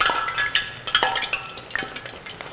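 Eggplant fries in hot oil heated to about 170 to 175 degrees, a close steady sizzle with bubbling crackle and a few clinks and stirring taps from utensils.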